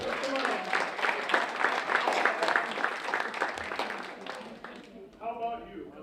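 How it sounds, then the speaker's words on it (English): A matinee crowd at a mentalist-magician show applauds two volunteers coming up onstage, a steady round of clapping that tapers off into someone speaking. "give the two of them a big round of applause as they come on up over here"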